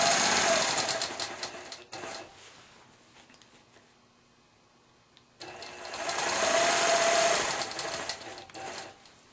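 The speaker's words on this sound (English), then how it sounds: "Now that I have a fresh bobbin, I'll continue my stitching." A sewing machine stitches a free-motion feather quilting motif in two loud, fast-running bursts separated by a few seconds of near silence while it stops.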